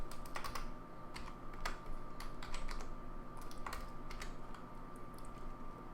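Rapid, uneven keystrokes on a computer keyboard, clattering in short bursts and single taps at close range with no talking.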